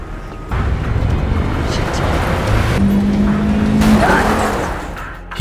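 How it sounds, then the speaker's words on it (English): A car pursuing someone in a chase scene, engine roaring steadily with tire noise, loud and close throughout, with a brief tonal hum in the middle and a faint voice underneath. "But before she could get far, Stevens pursued her in a car"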